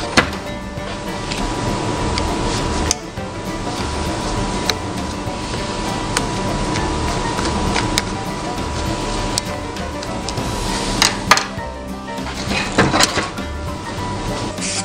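Compressed air blown through a chainsaw air filter from the inside out, a loud steady hiss that runs almost without a break, with occasional clicks and handling knocks and no voices.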